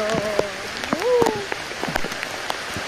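Rain falls outdoors in the Western Visayas countryside, a soft patter with scattered drops, while people talk and whoop excitedly over it.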